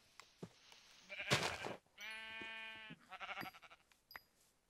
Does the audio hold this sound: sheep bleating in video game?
yes